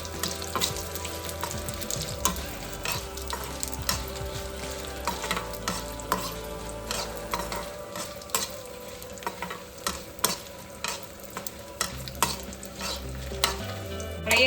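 Dry red chilies fry with grated coconut in a pan, a quieter sizzle under busy, repeated stirring and scraping strokes, with a faint watery running sound in the background.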